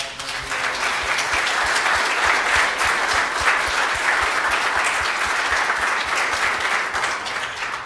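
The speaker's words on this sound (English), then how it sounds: "Let's give them a round of applause." Audience applause for pastors standing at a security and safety presentation, steady and full for about eight seconds with dense clapping throughout and no speech over it.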